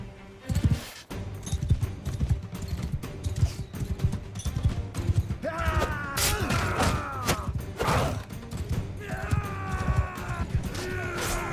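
Battle charge on horseback in Mount and Blade II Bannerlord, with dense thudding hooves, clashing and crashing melee under a steady game din, and brief shrill tonal cries rising over the fighting midway and near the end.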